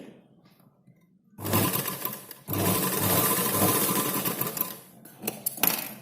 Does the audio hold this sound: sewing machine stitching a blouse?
yes